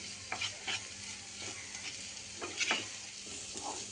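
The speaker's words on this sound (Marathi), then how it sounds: "सगळं चांगलं एकसारखं भाजून घ्यायचं।" Homemade masala roasting in a pan for chana masala, a soft sizzle under a handful of spatula scrapes and stirs, close but fairly quiet, with no voices.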